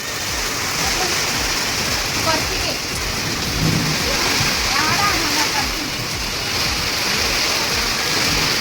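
Heavy rain pours steadily and loudly with gusting wind during an outdoor wedding mehndi celebration, with a dense unbroken roar and faint low rumbles.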